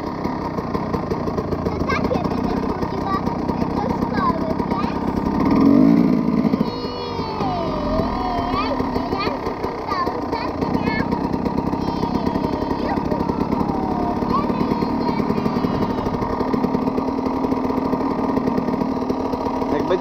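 A KTM EXC 300 dirt bike engine runs continuously at a steady, buzzy idle with a brief swell in revs midway, while a toddler sits on it and voices talk over the engine.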